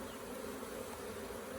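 Honey bees on a hive frame lifted during a winter cleanup give off a steady, dense, close buzzing hum that holds evenly throughout.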